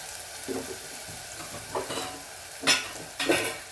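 Onions frying in a pan for palak paneer hiss softly while a spoon scrapes and turns them in a few distinct strokes, the last two louder and nearer.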